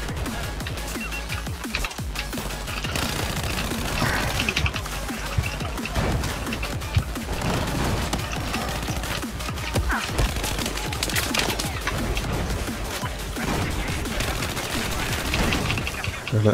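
MTAR-21 rifle fire in Battlefield 4 crackles in rapid bursts amid a dense, continuous battle din of other gunshots and explosions, loud and sustained throughout.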